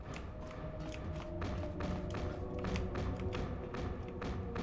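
Repeated dull banging thuds in the Star Wars KOTOR 2 video game, spaced at irregular intervals and fairly faint against a low droning ambience, with no one talking.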